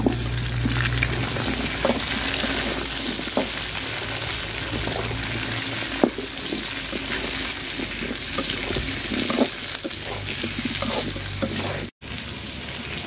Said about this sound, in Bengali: পেঁয়াজটা আমি লাল লাল করে ভাজা নিছি, তো কাঁচা টমেটোটা দিয়ে দিব এখন।